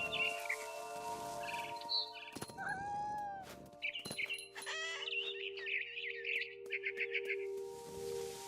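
Barn swallow chirping by a nest in a video game, with scattered bright chirps and twittering bursts over a quiet ambient hum, accompanied by other faint game effects.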